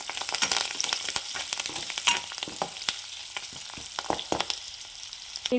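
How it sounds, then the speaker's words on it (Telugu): Curry leaves sizzle and crackle in hot oil in a pan, a steady bright frying hiss with sharp pops and stirring scrapes throughout, close and fairly loud with no talking. "కరివేపాకు ఇలా ఫ్రై చేసుకోవాలండి"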